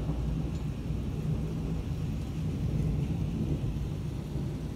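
Deep, continuous thunder from a severe thunderstorm in southeast Michigan rumbles steadily throughout, with a low roar and faint rain hiss underneath, fairly loud and sustained.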